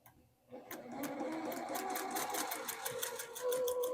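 Sewing machine running steadily for several seconds while stitching a quarter-inch seam along a marked line on quilting fabric with a quarter-inch foot, starting after a brief quiet moment and staying close and even throughout.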